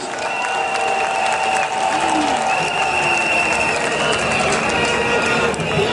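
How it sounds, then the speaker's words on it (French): A large crowd applauding at a political rally of the CAP-CI in Côte d'Ivoire, with dense, continuous clapping and cheering that stays loud and steady throughout. "je demande qu'on les acclame, qu'on acclame notre jeunesse ivoirienne talentueuse"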